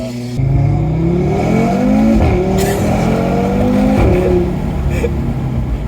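An Audi RS3 engine roars loudly and close, revving up and down in rising and falling surges over several seconds.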